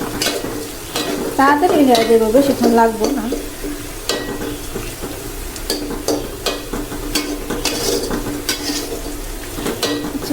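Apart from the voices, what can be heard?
onions frying in a pan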